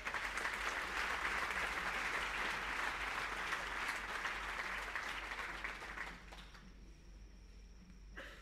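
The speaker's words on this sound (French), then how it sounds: "sous vos applaudissements" Dense, steady audience applause at an on-stage ceremony in Mauritius marking Made in Moris's 10th anniversary, as a bank's incoming chief executive is welcomed; the clapping stays loud for about six seconds, then drops off sharply to a faint room hush.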